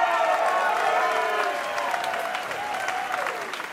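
Steady audience applause at an outdoor blues night by Lake Rotsee, the crowd clapping loud and dense throughout, with a few sustained musical tones and voices faintly underneath.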